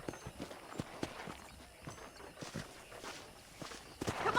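Horse hooves plod at a walk in the Red Dead Redemption western video game, with quiet, evenly spaced soft thuds and faint background ambience.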